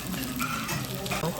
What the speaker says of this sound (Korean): 지글지글 소리나.